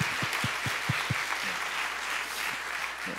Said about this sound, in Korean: 잠깐만 일어나 주시면 그냥 박수 한번 할게요